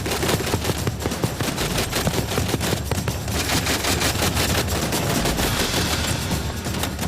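A state-of-the-art automatic grenade launcher firing 320 rounds a minute, heard as a dense, continuous rapid thudding barrage, loud and steady throughout.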